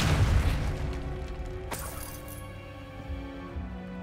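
A Depulso spell blasts in a Harry Potter video game inside an abandoned cave-in tunnel: a deep booming rumble at the start fades, then one sharp cracking burst rings out and decays, with faint quieter tail sounds.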